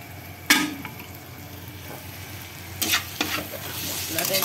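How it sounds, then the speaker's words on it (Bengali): A thick masala paste sautéing in a pan gives off a steady low sizzle, with a few sharp scraping stirs from a spoon near the start and again toward the end. "মশলাটা কষছি"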